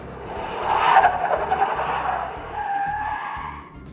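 Ultralight CGS Hawk aircraft landing with its parking brake left on, producing a loud, wavering tire squeal and skid over a low rumble that rises, dips and fades over a few seconds.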